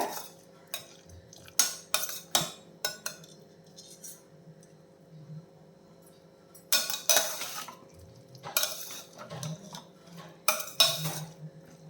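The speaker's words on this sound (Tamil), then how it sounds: "இந்த மாதிரி கிளறிக்கோங்க" A spoon stirs food in a cooking pan on the stove during home cooking of an easy South Indian side dish, giving bursts of scraping clinks in clusters with pauses between, moderately close, with no talking.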